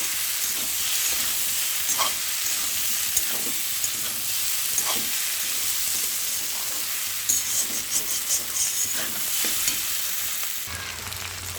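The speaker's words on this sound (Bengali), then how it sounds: "তো এখন ভেন্ডিগুলো দিয়ে দিলাম। তো ভালো করে এটাকে কষাতে হবে" Okra and prawns sautéing with spices in a hot pan, a steady loud sizzle and hiss throughout with occasional stirring scrapes, close up and with no voices.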